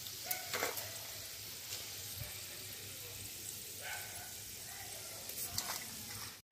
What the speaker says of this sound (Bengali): অল্প করে আলু নেবেন, দিয়ে একটু একদম গরম তেলে ছাড়বেন বন্ধুরা